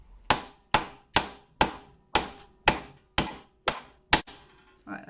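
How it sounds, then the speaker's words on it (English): A hammer strikes a metal disc punch through sheet metal while making charm earrings, nine sharp, evenly spaced blows about half a second apart, close and loud with quick ringing decay, no talk. "And then you take your hammer, and ideally with one swift hammer or multiple small ones,"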